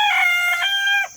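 A rooster crows once, loud and close, in a single drawn-out call at a permaculture chicken pen built as a mobile chicken tractor.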